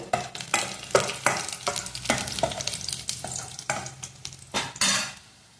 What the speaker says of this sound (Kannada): ಒಗ್ಗರಣೆಗೆ ಸಾಸಿವೆ ಹಾಕಿ ಬೆಳ್ಳುಳ್ಳಿ ಕೆಂಪಾಗೋ ತನಕ ಹುರ್ಕೋಬೇಕು.